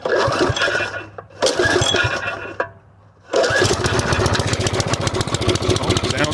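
A small engine is pull-started, sputters and cuts out briefly, then catches and runs with a loud, steady rapid chug close by.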